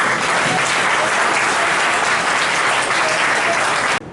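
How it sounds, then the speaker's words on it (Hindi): An audience at a Nagda foundation day event claps loudly and steadily for about four seconds, a dense continuous applause that cuts off abruptly near the end. "एक बार जोरदार तालियां।"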